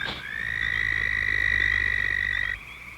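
Spring peepers and toads call in a spring wetland as one steady, high, piercing trill. It holds for about two and a half seconds, then stops over a low background hum.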